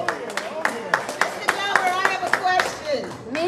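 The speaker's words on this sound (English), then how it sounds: "I insist on a hand clap for Monica Sanchez, who brings all of us together." An audience at a meet-and-greet event claps for Monica Sanchez, sharp hand claps landing in a steady, fairly quick rhythm while voices carry on underneath.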